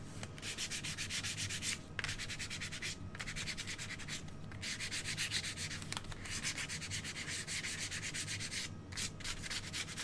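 Sandpaper scrubs continuously against wooden letters to give them a worn, distressed look, in rapid rhythmic strokes broken by a few brief pauses, close and steady with no voices.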